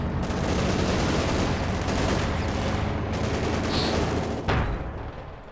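Tank cannon fire from a T-34/85 in the real-time strategy game Company of Heroes 2, a dense, continuous barrage of gunfire and explosions with one sharper blast near the end before the din eases off.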